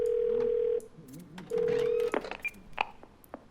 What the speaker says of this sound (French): J'ai appelé le numéro de Bumblebee.